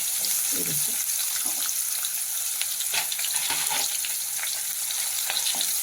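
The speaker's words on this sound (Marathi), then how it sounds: "कांदा छान परतून घ्यायचा." Chopped onion sautés with cumin seeds in hot oil, a loud, close, continuous sizzle with occasional scraping and light taps from stirring.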